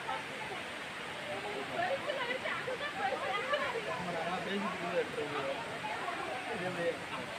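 Old Courtallam waterfall in the rain produces a steady, broad rushing roar of falling water, continuous throughout, with people talking and crowd chatter mixed in.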